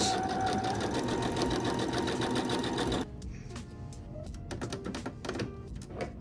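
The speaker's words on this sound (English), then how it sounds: "The first stitch I'll be using is a straight stitch." A sewing machine runs a straight stitch on denim patchwork, a steady fast mechanical chatter for about three seconds that then stops, leaving scattered lighter clicks and handling sounds.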